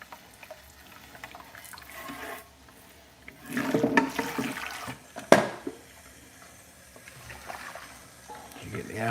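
Water hoses out of a pressure washer set to its low rinse mode, in uneven splashing bursts, one sharp spurt, and a steady hiss, with people talking over it.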